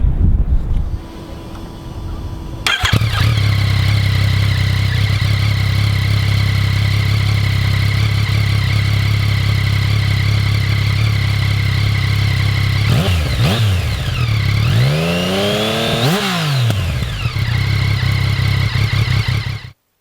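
A Yamaha MT-09 with an aftermarket exhaust fires up after a brief crank and settles into a loud, throbbing idle, then rises through a few sharp revs before dropping back, heard close and alone.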